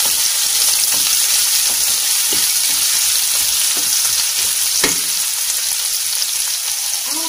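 Finely chopped onions sizzle steadily in a pan, loud and close, with occasional clinks and scrapes of stirring breaking through the continuous frying hiss.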